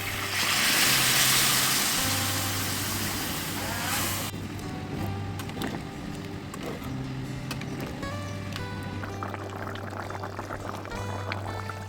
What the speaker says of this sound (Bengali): মাংসটা প্রায় কষানো হয়ে গেছে, এবার গরম জল দিয়ে দিচ্ছি।